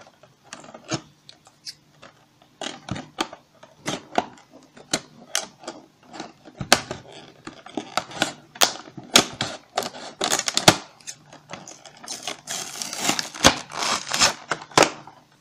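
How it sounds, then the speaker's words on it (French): Rapid crisp snipping and crinkling sounds close by as scissors cut tape on toy packaging, irregular bursts of cutting and rustling with no talking. "Alors, on va voir du scotch ici. Alors, je vais utiliser les ciseaux."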